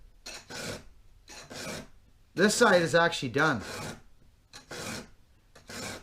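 A hand file sharpens a 200T chainsaw chain with rhythmic rasping strokes, roughly five close scrapes spaced about a second apart, while someone speaks briefly in the middle.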